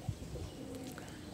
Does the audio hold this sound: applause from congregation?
no